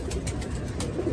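A pigeon coos softly in short repeated pulses as it lands, under steady outdoor noise.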